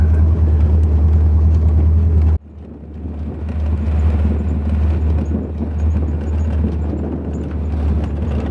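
An old, beat-up vehicle drives along a country road, its engine a loud, steady low rumble with road noise; a sudden drop partway through is followed by continued rough rumbling and rattling.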